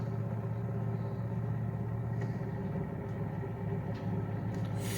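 Small engine driving a DC generator for charging a battery bank, running steadily at low throttle with a continuous low hum and rumble, even and unbroken, heard alone at a modest level.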